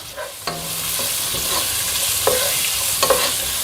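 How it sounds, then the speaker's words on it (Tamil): Chopped onions fry in a pan with a loud, constant sizzle, broken by a few light clinks and scrapes of stirring. "இந்த பெரிய வெங்காயம் பொடி பொடியாக நறுக்கி வச்சுருக்கோம் இல்லையா, அதை போட்டுக்கலாம்"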